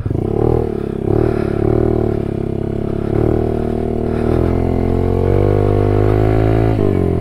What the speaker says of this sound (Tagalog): So yung engine pala nito mga par is stock engine.